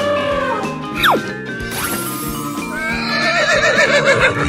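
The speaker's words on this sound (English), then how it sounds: "Horse." A horse neighs loudly and close, a sharp rising whinny followed by a long quavering trill, with faint hoof-like clatter and music-like tones underneath and no talking.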